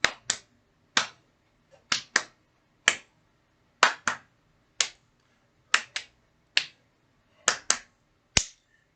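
A seated dance group claps sharply in a rhythmic pattern, pairs and single claps alternating sides, crisp and close with silent gaps between them.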